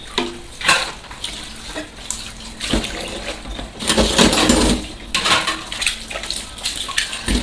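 Dishes are washed at a home kitchen sink under a running tap: water streams and splashes steadily while plates and utensils clink and clatter up close.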